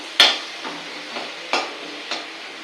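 Tomatoes being sautéed in a pan for tomato chutney, a few distinct scrapes and stirs of a utensil against the pan over a soft background sizzle, the first stroke loudest and later ones spaced about half a second apart.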